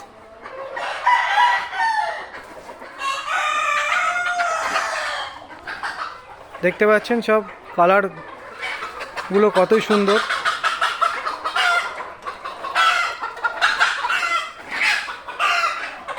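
Desi chickens on a breeder farm cluck and crow, with a rooster's drawn-out crows standing out twice amid busy flock chatter, while someone talks over them.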